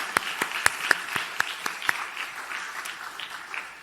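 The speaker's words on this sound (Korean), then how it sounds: "우리 박수로 축복하고 축하하도록 하겠습니다" A church congregation claps to welcome and bless a newly registered member at a worship service, starting with scattered, distinct hand claps that thicken into a soft, brief round of applause before trailing off.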